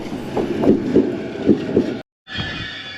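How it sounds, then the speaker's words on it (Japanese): A Keiyo Line commuter train bound for Tokyo pulls into a station platform in Chiba, its wheels giving off rhythmic low thumps over the rail joints under steady rolling noise, which cuts out briefly before the hum resumes. "ただいま電車が入線してきました"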